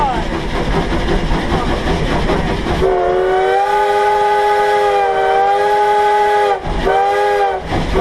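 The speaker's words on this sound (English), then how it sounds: "We're approaching Gold Hill with Kevin at the throttle." V&T steam train climbing a steep curve near Gold Hill: loud rumbling chuffing and rail noise, then a long, strong multi-tone steam whistle blast followed by a second shorter blast, close by.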